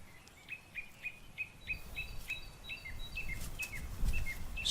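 Birds calling in a forest where they prey on silk-covered nests of caterpillars: a string of short, sharp chirps repeats steadily at moderate distance over a low rumbling background, growing a little busier toward the end.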